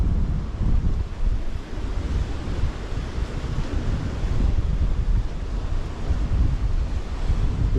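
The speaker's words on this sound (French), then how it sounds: "Un petit peu de vent." Steady wind buffets the microphone beside the sea, with waves rumbling and washing in the background; no voices.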